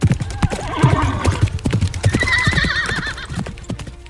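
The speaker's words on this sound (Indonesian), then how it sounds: "tepat sebelum kuda itu melintas" A horse with a rider gallops past with rapid, loud clip-clop hoofbeats, and a whinny rises over the hooves midway, all close and busy.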